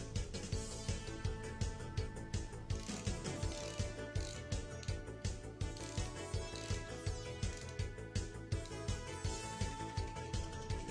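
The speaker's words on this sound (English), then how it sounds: "fasten the bracket with the hexagonal screws and corresponding" Hexagonal screws are fastened into a valve bracket on a Pentair Sudmo butterfly valve. A ratchet wrench clicks in a steady, even rhythm of repeated close, sharp ticks with no voices.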